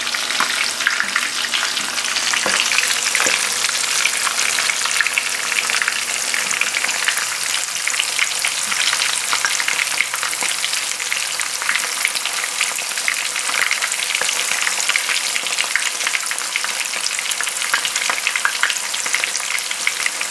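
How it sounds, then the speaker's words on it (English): Cheese frying in hot oil that spits, a loud, dense crackle and hiss sustained without a break, popping like rain on a surface, and no one speaking. "The oil gets hotter now. It's going to spit at you a little bit"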